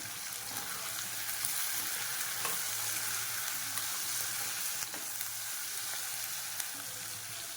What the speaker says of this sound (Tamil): இதுவும் எண்ணெயிலே வதக்கணும்.